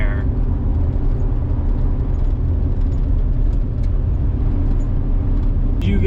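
A car drives down a country road on a Wisconsin dairy farm toward a field, its steady low engine and tire rumble continuous and close throughout, with a faint brief squeak near the end.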